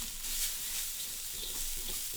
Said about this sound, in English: And you can hear the sizzling.